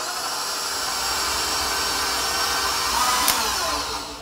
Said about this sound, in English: let's give this just a little bit of a mix to make sure all those ingredients are mixed up pretty well